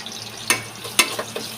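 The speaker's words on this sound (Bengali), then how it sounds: "এখন আমি ওই প্যানের মধ্যে পেঁয়াজ দিয়ে দিলাম" Onions hiss and sizzle in a hot pan while cooking beef biryani, with a few sharp clinks and scrapes of stirring.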